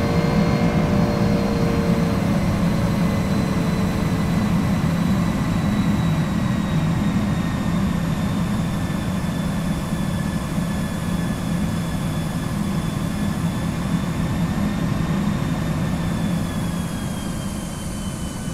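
Airliner engine noise in the X-Plane 11 flight simulator, flying an Airbus A320 or Boeing 757, a loud, steady low roar with a slowly shifting whine above it, constant for the whole stretch.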